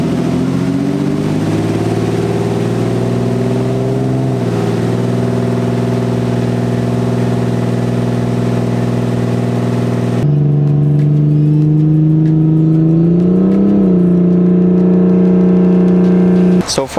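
A Nissan 240SX with an RB engine swap and turned-up boost revs on a dyno, its loud sustained engine note climbing and holding steady, then dropping into a lower drone with a brief swell near the end.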